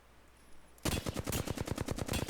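Rapid automatic gunfire erupts suddenly from a quiet start in a video game, a close, loud stream of evenly spaced shots hammering on without pause until the end.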